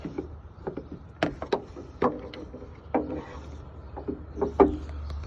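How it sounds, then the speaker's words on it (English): A Line-X Eclipse hard rollup tonneau cover being rolled along a pickup bed makes a series of close wooden-sounding knocks and rubbing clatters as its slats move, irregular and fairly quiet, with no talking. "And then to roll it back out, you just roll it."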